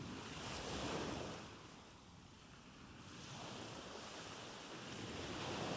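Ocean waves surge and recede in slow, broad swells with a windy hiss, soft and continuous with no voices.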